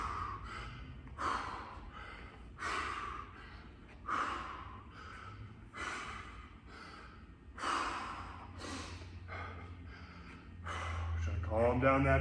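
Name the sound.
heavy breathing after workout exercise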